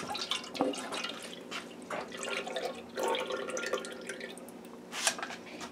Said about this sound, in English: So I'm going to pour the milk and sugar mixture